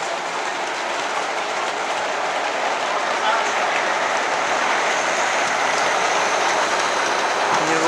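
HO and N scale model trains run at a model railway open day, giving a steady whirring rumble with faint clicking from the track amid an indoor crowd murmur, and someone speaks over it.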